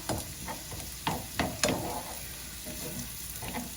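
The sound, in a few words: jackfruit and onions frying and being stirred in a pan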